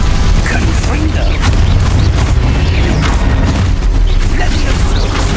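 Fiery blast spell cast in the Hogwarts Legacy video game, a continuous loud rumbling bed of booms and crackling bursts filling the whole stretch, with a voice calling out the spell.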